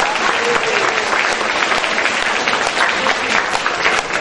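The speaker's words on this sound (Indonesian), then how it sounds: "Tepuk tangan untuk semua kita." A seated audience at an Islam–Christian public debate in Indonesia gives dense, even applause, a continuous loud crackle of many hands with no pause throughout.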